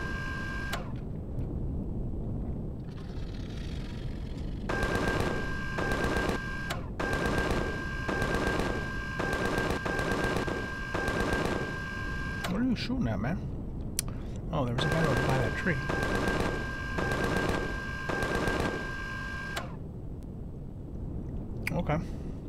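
Turret weapons in Empyrion Galactic Survival fire in long, rapid mechanical bursts separated by short pauses, loud and rattling, with someone talking over parts of it.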